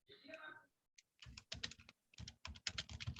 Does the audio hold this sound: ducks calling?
no